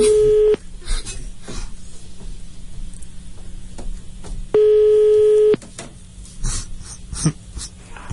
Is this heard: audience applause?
no